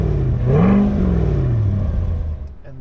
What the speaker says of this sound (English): You can rev the engine by pulling both paddles.